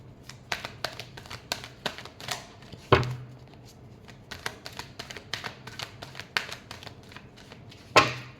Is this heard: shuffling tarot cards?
yes